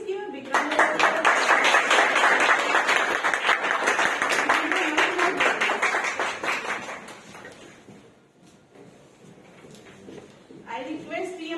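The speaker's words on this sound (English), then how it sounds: "Please give a big round of applause." An audience at a certificate presentation gives a dense round of applause that lasts several seconds and then thins out. A voice starts speaking as the clapping fades.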